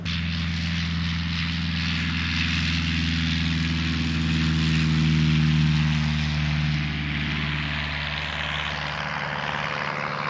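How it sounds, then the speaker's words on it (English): A propeller aircraft engine drones steadily and loudly at a small rural airfield, the tone swelling slightly mid-way as the plane passes, with no talking. "a nice little restaurant just behind me there where you can sit out and watch the planes take"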